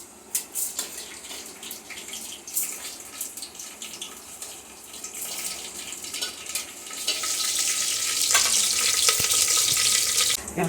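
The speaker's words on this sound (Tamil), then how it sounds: "இப்போ கடுகு உளுந்தம் பருப்பு, வெந்தயம் பொரிஞ்சிருச்சு" Mustard seeds, urad dal and fenugreek frying in sesame oil for a taro curry tempering, a loud, steady crackling sizzle that swells and intensifies toward the end, close by with no talking.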